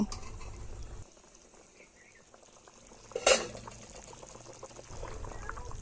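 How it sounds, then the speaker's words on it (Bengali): Hilsa fish curry broth simmers in a pot with a quiet, low bubbling and faint gurgle, one brief sharper splash or clink midway. "ইলিশ মাছের ঝোলটা একটু ফুটে উঠেছে"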